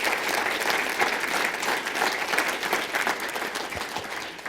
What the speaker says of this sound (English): a round of applause for all of our finalists